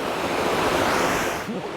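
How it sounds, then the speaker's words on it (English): A two-tiered waterfall at East Park in Connellsville, Pennsylvania, gives a steady, dense rushing roar close by, continuous and unbroken with no voices over it. "It's like a double-decker waterfall."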